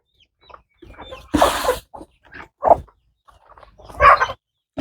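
Chickens at a small farmyard with ducks cluck in short, separate bursts, with quiet gaps between calls and one louder squawking flurry, heard close by.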